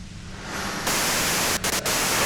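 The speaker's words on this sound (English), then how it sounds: "you can do it through the white noise." Steady, loud hissing static, like white noise from a machine in a video game, grows stronger partway through and then holds with a couple of brief dips, and no voices are heard.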